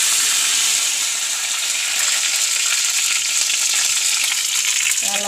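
Curry leaves and fenugreek sizzle in hot oil after mustard seeds and dried red chillies for tempering moru curry, a steady close crackling hiss that fills the whole stretch without any talk.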